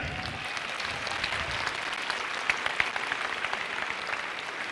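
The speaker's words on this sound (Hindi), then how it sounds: "अपनी जोरदार तालियां एक बार" Seminar audience breaking into hearty applause, a dense, steady wash of many hands clapping with a few sharper claps standing out, filling the room throughout.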